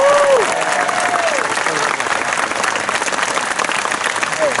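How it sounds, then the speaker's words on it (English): At a community college graduation ceremony, a large audience gives steady, dense applause, loud and sustained. A speaker's voice is heard over the opening moment, and there are brief vocal sounds near the end. "would you clap for the weather?"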